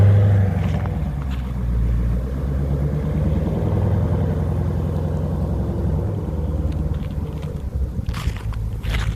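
Dodge Charger Scat Pack on Continental VikingContact 7 tires pulling away over snow and ice, a steady loud low engine rumble throughout with a brief rise near the end.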